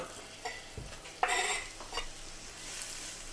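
Chopped shallots land in melted butter in a hot pan, giving a brief burst of sizzling and scraping with soft pan clatter before settling into a quiet, low frying hiss.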